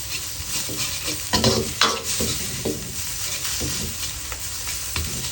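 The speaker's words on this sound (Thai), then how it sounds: "ใช้เวลานิดนึงนะ ผัดไทยนี่ใช้เวลา ว่าเราไม่ได้ลวกเส้นก่อน ไม่อยากลวกเพราะเส้นมันจะเละ ค่อยๆผัดไป" Pad thai noodles with fresh shrimp stir-fried in a pan, giving a continuous close sizzle broken by repeated scraping and tossing strokes of a spatula.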